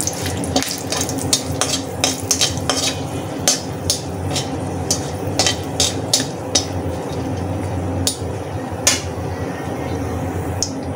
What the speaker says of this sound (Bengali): আমি ডিম আর কাঁকরোল ভাজা তেলের মধ্যে ফোড়ন দিয়ে দেবো